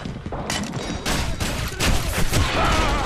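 Shotgun blasts in the Gotham City Impostors video game, a dense burst of loud booming shots layered over constant game noise and effects for about three seconds.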